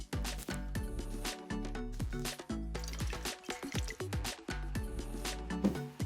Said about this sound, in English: pour the water in a shallow glass dish until it just covers the bottom